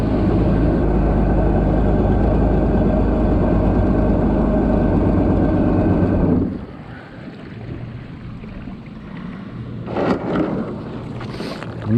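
A Yamaha WaveRunner 500cc jet ski engine idling a little high, a steady loud droning hum for about six seconds that then drops away, leaving quieter wind and water noise with a brief gust near the end.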